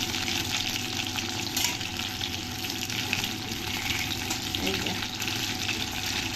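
Fish fries in a pan with a dense, steady sizzle that stays close and constant, with faint occasional stirring.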